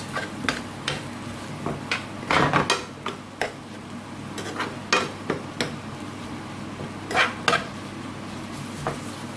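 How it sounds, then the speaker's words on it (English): A spoon scrapes and clinks against a pan while bottle gourd and prawns are mixed for a Bengali curry, producing irregular close knocks and scraping strokes over a faint sizzle. "So let's mix them all in."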